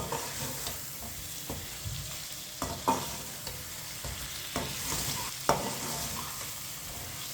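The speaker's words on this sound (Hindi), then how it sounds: "अब इसे 1 मिनट के लिए भून लेंगे मसालों को।" Spices frying in a pan for chicken karela, stirred over low heat: a steady close sizzle with scraping spoon strokes and a few sharper clinks against the pan, no talk.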